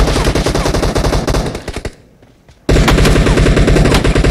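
Automatic weapons fire in a team deathmatch shooter game comes in loud, rapid continuous bursts, drops to a brief lull with scattered shots, then resumes in a sustained heavy stream of gunfire.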